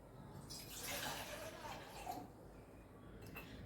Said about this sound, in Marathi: तर पाणी वतून घेतलेलं आहे